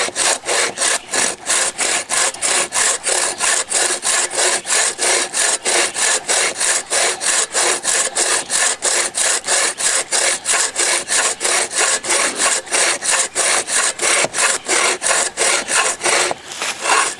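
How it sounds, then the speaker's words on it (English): A small Sawvivor pack saw cuts through wood up close, its rasping strokes repeating fast and evenly. It runs unbroken until a brief pause near the end. "let the saw itself do the work for you"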